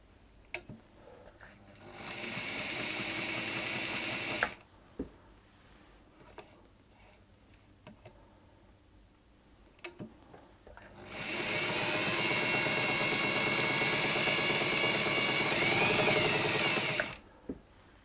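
A Singer sewing machine whirs in two bursts, a short one and then a longer steady run, its noisy motor humming loudly between quiet pauses with small clicks.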